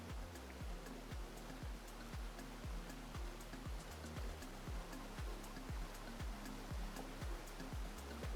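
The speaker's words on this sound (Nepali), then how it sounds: "माथिबाट आइरहेको जुन झरना छ, पानी छ" Water from a forest waterfall rushes in a continuous broad roar, with regular low thumping pulses running through it; no speech.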